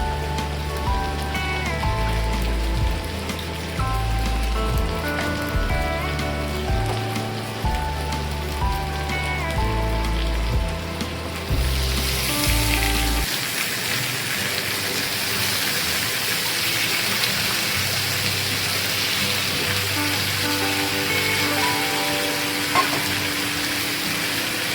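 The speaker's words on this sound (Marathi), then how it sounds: "वांगीची चिरून घेतली, ती टाकतो." Chopped eggplant tips into a pan of part-cooked potatoes for a dry vegetable dish, and a steady close sizzle of frying carries on throughout, louder and hissier in the second half.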